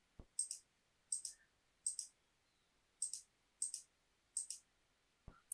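Mouse buttons clicked during a React coding session on a computer, heard as quiet, crisp double clicks repeating about every half second to second, close and alone with no talk.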